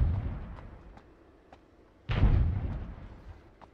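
In the Ring of Elysium video game, a distant rocket or grenade explosion fades out with faint scattered pops, then a second, louder blast booms and rolls on for over a second, with no talking over it.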